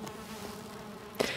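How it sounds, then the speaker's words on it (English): Bees buzzing in the Valheim video game, a soft steady insect drone close by with no talk over it, broken near the end by a short sharp burst. "Do you hear bees?"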